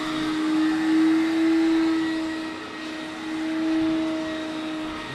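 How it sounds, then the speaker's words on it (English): A carpet scrubber machine runs on a late-night carpet cleaning job, a loud steady motor whine with a sustained tone that wavers slightly in pitch and level throughout, close by and without talk. "aka the carpet scrubber. That thing will hurt you quickly if you're not careful."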